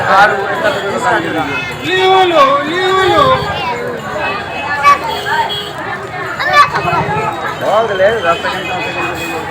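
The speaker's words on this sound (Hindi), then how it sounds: "बहुत भीड़ है।" A busy crowd in front of a utensil shop: a steady, close babble of many overlapping voices with individual people talking, continuous and fairly loud throughout.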